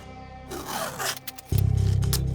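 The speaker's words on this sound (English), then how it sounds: "right now, I'm getting it all taped off" Masking tape being pulled and torn during an RV sink install, with a ripping, crackling unroll followed by a loud, buzzy, rapidly pulsing tearing sound.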